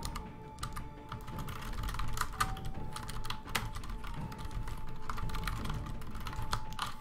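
Typing on a computer keyboard during a game dev livestream, a quiet continuous clatter of key presses with irregular rhythm, close and soft, alone without talk.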